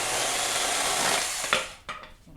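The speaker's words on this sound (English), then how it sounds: "a nice little cut test on with the small little chainsaw here" A small mini chainsaw cuts through a thin branch with a loud, buzzing, rasping whine that runs steadily, then stops abruptly with a couple of short clunks as the cut finishes.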